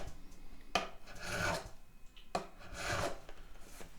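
A file rasps across the frets of a Vangoa 12-string guitar in two distinct strokes, each starting with a sharp scrape and swelling into a close, gritty rub, with quiet pauses between.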